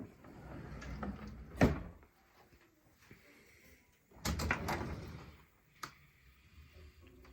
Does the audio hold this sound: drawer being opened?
yes